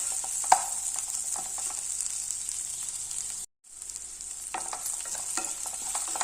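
Capsicum sautéing in a pan for potato rice, a steady close sizzle with scattered spatula scrapes and taps, a brief cut to silence midway, no voices.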